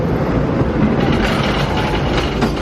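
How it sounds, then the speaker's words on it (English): Loud rumbling clatter of the Wickerman roller coaster train at Alton Towers rolling away full of riders, steady and close, with no voices over it. "The first train full of people of the day going"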